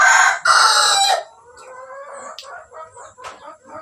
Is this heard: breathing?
no